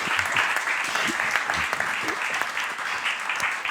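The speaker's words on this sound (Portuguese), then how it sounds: "Podem meter palmas." Audience applause fills a room at a book launch for an essay on Portugal's railways, a steady dense patter of clapping from start to end, with faint voices underneath.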